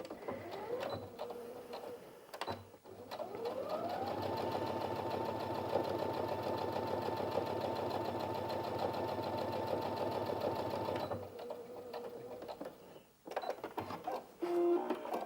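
A Brother Inventio NV1350 sewing machine stitches fabric in a steady, fast whirring hum that ramps up and runs for several seconds, with brief mechanical clicks and motor whines before and after.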